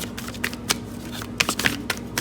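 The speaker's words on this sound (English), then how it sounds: "You can skip through the shuffling or speed it up if you want." A deck of tarot cards is shuffled by hand, giving close, crisp flutters and riffling snaps in irregular bursts over a low steady hum.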